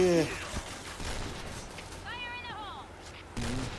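Gunfire in the shooter video game Point Blank comes as brief clustered shots under an excited voice talking, with a cat-like meow sound in the mix.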